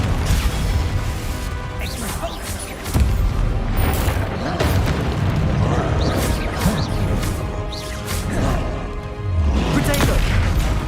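Repeated spell blasts in a fantasy video game, with booms, crashes and whooshes layered over a constant dense wash of game music and effects, and a sharp hit near the third second.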